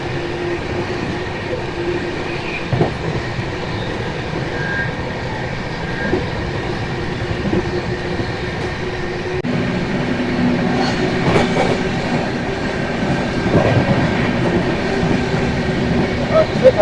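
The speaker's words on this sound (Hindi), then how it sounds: "अच्छे खासे स्पीड में स्टेशन को स्किप कर रही है ट्रेन।" The Ahmedabad Express, train 19484, runs at speed past a station in dense fog, heard from on board as a steady rumble with rhythmic wheel clatter and occasional squeals. A voice talks now and then.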